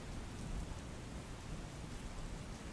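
Heavy downpour over Surat city, a dense, steady roar of rain pouring down with a constant wash of drops and low rumble throughout, no voices.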